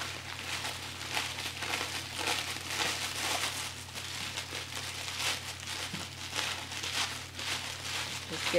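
Layered cellophane for wrapping a gift basket is crinkled and pulled open, a close, continuous crackling rustle with brief louder crunches.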